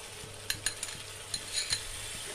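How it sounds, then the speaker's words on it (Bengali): Milk poured into a pan of fried spice paste for chicken korma, giving a steady hiss with a few light spoon clinks and stirring scrapes, close and moderately loud, with no talking. "এবার আমি দুধটা দিয়ে দিচ্ছি।"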